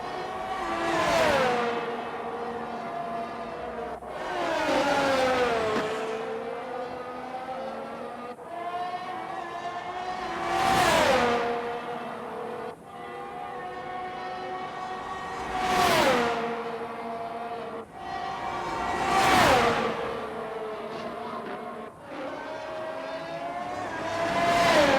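Formula 1 cars in a racing video game, a McLaren among them, roar past in repeated waves, each engine whine climbing in pitch and then dropping away as a car overtakes on the Saudi Arabian Grand Prix circuit, with a steady engine drone underneath.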